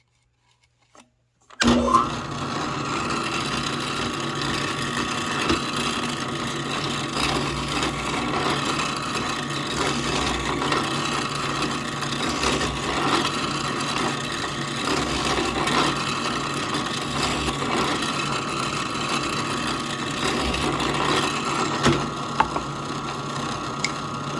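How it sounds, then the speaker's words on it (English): A drill press bores interior holes in gear heart parts, starting abruptly and then running as a steady, close, continuous whirring grind for over twenty seconds with no talk. "while we're here at the drill press, we're gonna drill all our interior holes here for these other parts"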